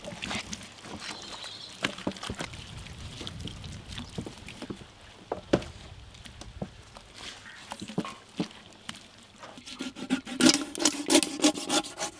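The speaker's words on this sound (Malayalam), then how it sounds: "അടിപൊളി മസാല നല്ല അടിപൊളിയായി തേച്ച് കൊടുക്കാം" Masala paste rubbed by hand over a whole goat, wet irregular rubbing and slapping strokes, close and moderately loud, growing busier toward the end, with no speech.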